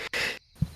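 Someone sneezes once in the forest, a short, sharp burst that is close and fairly loud, followed by a brief pause and a faint low thump.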